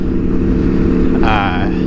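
An Aprilia motorcycle engine drones loud and steady while riding, with wind noise and a voice speaking over it near the end.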